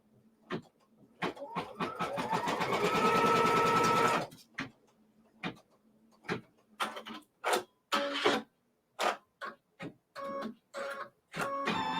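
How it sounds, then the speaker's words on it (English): A sewing machine stitches fabric pieces placed right sides together for a quilt block, running in one steady loud burst for about four seconds, then stopping and starting in a string of short bursts, with no voices. "And now I'm going to stitch this down."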